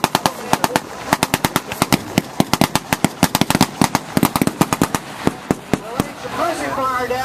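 Rapid bursts of .30 caliber light machine gun fire in World War II Marine assault combat footage, sharp repeated shots in quick strings, loud and close, with a voice speaking near the end.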